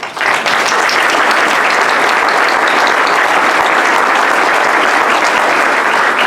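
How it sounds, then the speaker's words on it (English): An audience at a Rotary Club of York meeting breaks into loud, sustained applause, a dense steady clatter of many hands clapping close by from start to finish, with no one speaking over it. "And I would like to applaud him for that."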